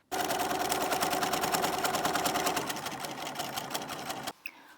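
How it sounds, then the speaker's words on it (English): A sewing machine stitches elastic into a fabric face mask, a loud rapid mechanical rattle of needle strokes running steadily for about four seconds, softening slightly, then stopping abruptly with a faint click after. "we put the elastic in, fold the side over twice, once and twice, and then we sew down"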